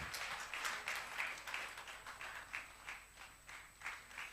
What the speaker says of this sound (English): Could we clap until he gets to the stage, please?